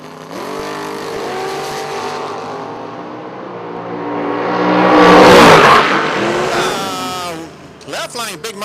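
At a footbrake drag race, a big Monte Carlo and a Mustang roar past. The engine noise swells loud and close, then fades as they pass, with an announcer talking over the sound.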